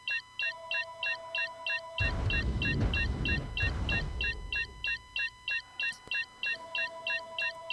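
A phone ringing inside the space game Star Citizen, a repeating electronic ring pattern in regular bursts, briefly buried under a loud rumbling burst of ship noise before the rings carry on clearly.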